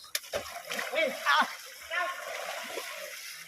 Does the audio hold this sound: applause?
no